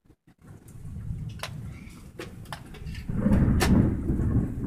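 Steady rain patters outdoors with a rumble of thunder, the downpour growing heavier and louder toward the end, punctuated by a few sharp knocks.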